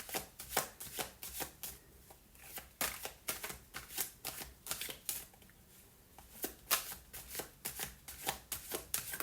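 Playing cards for a card reading are shuffled and pulled from the deck in quick, crisp riffles and slaps, close up and clear, with brief pauses between bursts and no talking.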